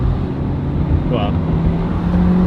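Jeep Trackhawk with a loud aftermarket intake under full throttle, a steady loud engine drone close by, with a brief voice over it.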